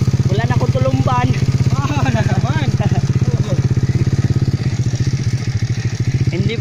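A motorcycle engine chugs steadily and loudly close by on a dirt trail in Bahia, Bais City, Negros Oriental, a constant rhythmic throb under people talking in Filipino.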